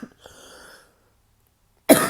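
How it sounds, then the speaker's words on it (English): A single sharp cough bursts out near the end, close and loud, after a short stretch of faint murmuring and silence. "I'm so sorry, I keep coughing."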